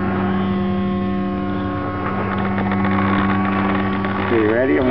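A Frixler model aircraft engine throttles up, a buzzing whine with steady harmonic tones that climbs in pitch near the end, heard over a radio link with a voice speaking over it.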